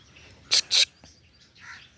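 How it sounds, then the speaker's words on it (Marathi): A woodpecker with a long, finger-length beak gives two sharp, bright calls in quick succession, followed by a faint, softer chirp over quiet outdoor background. "ही सुतार पक्षी मी प्रत्यक्ष दाखवते"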